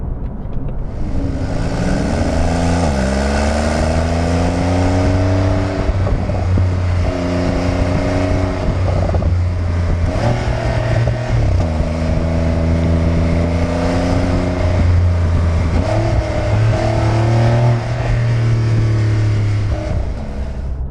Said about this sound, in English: apparently the car has sport exhaust. Hear for yourself and tell me what you think.